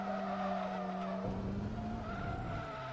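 Tires skid as a race car spins out in Forza Motorsport 2, a loud steady screech over engine drone that breaks into rougher scrubbing noise partway through.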